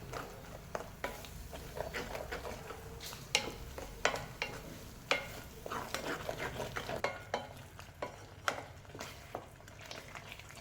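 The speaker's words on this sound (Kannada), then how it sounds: "ಇದು ಚೆನ್ನಾಗಿ ಫ್ರೈ ಆಗ್ತಿದೆ." Tomato masala for a paneer curry frying in a pan, a steady soft sizzle broken by frequent sharp scrapes and clinks of a spoon stirring against the metal.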